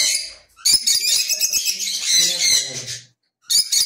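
Lovebirds in a breeding loft, chirping in a dense, shrill chorus of tweets and squawks close by. A short pause breaks the chatter before it resumes.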